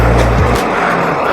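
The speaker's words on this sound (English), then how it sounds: "ZX6R incoming." Kawasaki ZX6R superbike on the Mumbai–Nagpur Samruddhi Marg expressway, a loud close engine roar that drops in pitch as it rushes past, over strong wind noise.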